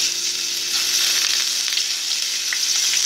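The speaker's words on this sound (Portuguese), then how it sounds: "coloquei o óleo na panela, tá? Esperei esquentar e agora vamos colocar a nossa carne." Beef frying in hot oil in a pan gives a loud, steady, crackling sizzle throughout, with no talking.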